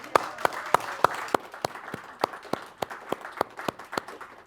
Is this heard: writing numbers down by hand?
no